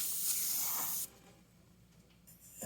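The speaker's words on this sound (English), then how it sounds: "You just got to keep spraying it in" Spray gun hissing out chrome yellow paint onto a Mustang in a steady burst that cuts off, followed by quieter room noise and a fresh spray starting at the end.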